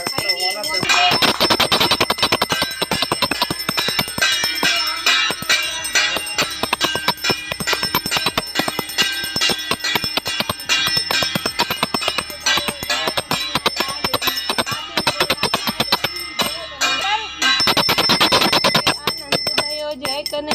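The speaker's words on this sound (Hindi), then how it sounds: "मेरे हाथ में नहीं आएगी घंटी। मैंने तो बड़ी ली है।" A metal hand bell rings rapidly and continuously during a Janmashtami puja at home, bright and close, with voices faintly in the background.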